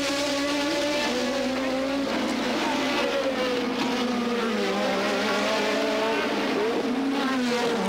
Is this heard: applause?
no